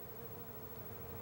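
Honey bees buzz around a hive colony on an organic farm in Bangladesh, a faint, steady, continuous drone with no pauses.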